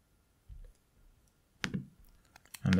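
Mouse clicks at a computer while working in Tableau data software, a few sharp, close clicks spread across a quiet moment, the last ones louder and slightly fuller.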